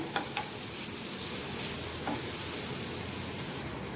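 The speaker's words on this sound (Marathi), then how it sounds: "आता याच्यामध्ये ओलं खोबरं घातलं आहे, तर चांगलं मिक्स करून घेऊया." A red leafy vegetable curry, with fresh grated coconut just added, is stirred in a hot pan. A steady close sizzle runs throughout, with a few soft scraping strokes of the spoon.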